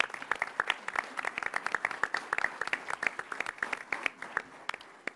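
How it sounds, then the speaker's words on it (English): A small group claps steadily for several seconds at a governor's cabinet meeting in Rochester, New York, a brisk, moderately close round of applause with no talking. "let's give them a round of applause for being here today"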